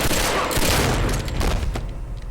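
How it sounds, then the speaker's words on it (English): Gunfire in the action film Live Free or Die Hard, a dense burst of loud overlapping shots with booming low rumble that thins out and fades toward the end. "John bests henchman number 8 by taking him out with his own gun"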